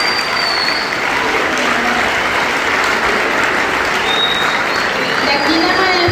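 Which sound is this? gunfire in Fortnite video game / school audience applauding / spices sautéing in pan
school audience applauding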